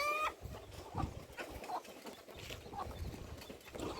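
Free-range country chickens clucking, with short, scattered calls and soft clucks at moderate distance over a low outdoor background.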